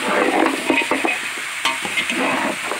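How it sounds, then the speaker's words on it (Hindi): Beef bones frying in hot oil with ginger-garlic paste for a curry, a dense steady sizzle broken by the scrape and clatter of stirring, close up and alone. "हड्डियाँ भुननी शुरू हो गई हैं"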